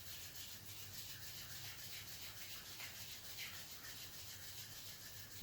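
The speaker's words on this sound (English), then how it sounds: "Now rub your hands, heat them up." Palms rub briskly together to warm up, a soft continuous dry friction heard close and quiet, with no talking.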